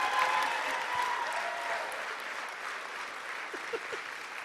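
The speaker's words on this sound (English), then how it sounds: "Can we give a big round of applause for my mom for being such a great sport?" A comedy club audience applauds a comedian's mother, a loud dense burst of clapping that gradually thins and softens, with a few scattered louder claps near the end.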